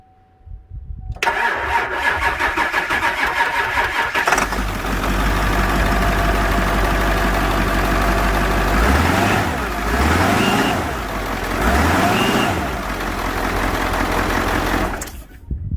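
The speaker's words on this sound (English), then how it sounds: "and listen to the bus diesel." A Ford 7.3 Powerstroke turbo diesel bus engine cranks with a rapid starter whir, catches and roars up, then settles into a loud, steady rumbling idle with a couple of revs.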